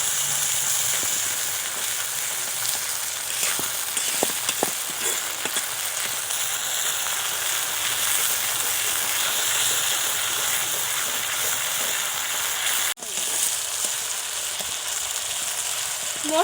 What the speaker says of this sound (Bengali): এবার আমি ওই গোলা সর্ষে বাটাটাকে মশলার মধ্যে দিয়ে দেব আর মশলার সঙ্গে ভালো করে মিশিয়ে দেব।